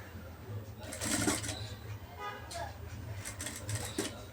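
A sewing machine stitches blouse fabric in short bursts of quick, faint rattling with pauses in between. Someone speaks softly throughout.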